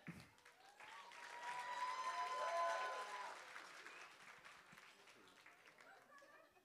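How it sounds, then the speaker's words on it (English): Wedding guests applaud the best man at the reception, a full, sustained round of clapping that swells in the middle with whistles and cheers before easing off, with voices mixed in. "So please give a round of applause for Viet."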